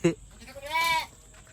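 Young kid goats bleat in a village pen, one short high cry near the start and a longer wavering bleat in the middle, fairly close; faint voices murmur in the background.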